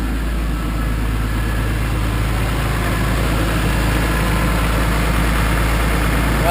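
A BMW M3 with a Dr. VANOS unit installed idles steadily just after being started on a recharged dead battery, a close, even, low rumble with a constant hum and no talking.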